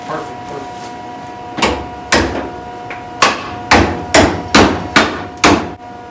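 Seven sharp metallic hammer strikes bending a metal tab on a 1970 Dodge Challenger, loud and close, spaced irregularly then settling into a steady rhythm, with a faint hum underneath.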